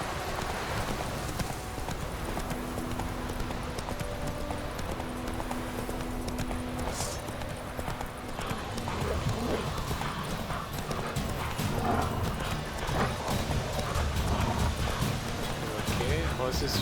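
Horse hooves clip-clop steadily in The Witcher 3: Wild Hunt, a continuous rhythmic trot at moderate level with a whinny-like tone partway through, mixed with game ambience and a voice talking over it.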